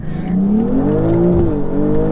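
A 1500 bhp BMW B58 engine revs hard while the wheels spin in second gear. Its loud, close, rising howl climbs steadily in pitch and holds strong throughout.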